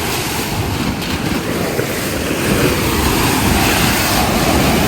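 Rough sea surf roars continuously, heavy wind buffeting the microphone, with no voices.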